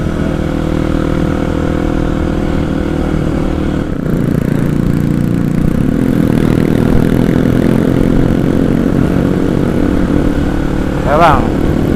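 A motorcycle engine approaching from behind drones steadily close by throughout, rising slightly as it passes, with a brief horn-like tone near the end and traffic noise around, heard from a Kawasaki KLX 250 on the road.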